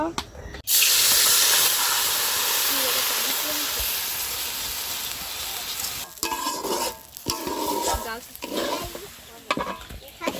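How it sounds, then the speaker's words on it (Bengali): Rice frying in a pan for a winter vegetable khichuri gives a loud, continuous sizzle that starts suddenly, then turns into uneven stirring and scraping sounds toward the end. "এবার আমি চালগুলো ভেজে নেব।"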